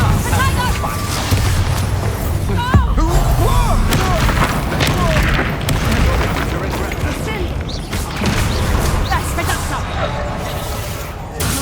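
A Confringo spell explosion in the Hogwarts Legacy video game, heavy booms and crashing blasts filling the stretch amid battle effects and spoken incantations, loud and near.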